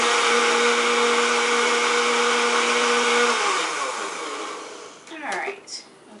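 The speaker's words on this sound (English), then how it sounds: "Alright, so I'm going to go ahead and blend this." A blender whirs loud and steady as it mixes a Kahlua and cream cheese dessert cocktail, then spins down after about three seconds, followed by a few clunks and rattles.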